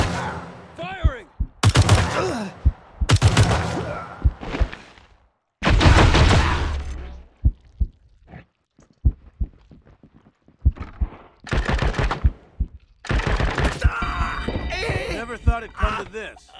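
Bursts of gunfire during a Wasteland 3 battle, several loud, dense volleys spread across the stretch, broken by gaps and short clicks, with characters speaking between and over the shots.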